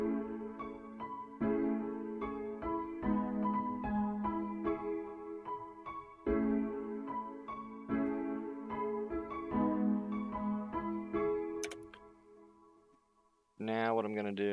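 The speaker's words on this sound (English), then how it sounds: "So I went and applied a flanger." A dreamy drill synth track in FL Studio plays steady repeating chord stabs and melody, widened by a Fruity Flanger on its thick default setting at 48% mix, before a brief, brighter, different burst at the very end.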